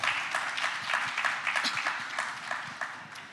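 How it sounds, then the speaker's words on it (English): A seated audience gives a round of applause, many hands clapping in a steady, full wash with faint voices mixed in. "let's give them a round of applause"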